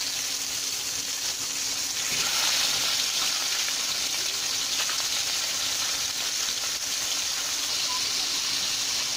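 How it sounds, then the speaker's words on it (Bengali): Fish heads frying in hot oil for a Bengali moong dal dish, a loud, steady hiss of sizzling that swells briefly as the pieces go into the pan, with no talking. "মাছের মাথাগুলোকে আমি এখন ভেজে নিব। তেল গরম হয়ে গেছে, এখন আমি এগুলো আস্তে আস্তে করে দিয়ে দেবো সব।"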